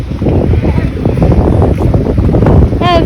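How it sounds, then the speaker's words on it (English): Strong wind buffets the microphone at a beach in Durban, a loud, continuous rumbling roar with a brief high squeal near the end. "Hey, it's windy."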